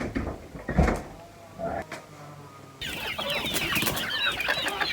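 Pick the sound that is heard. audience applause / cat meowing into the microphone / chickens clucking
chickens clucking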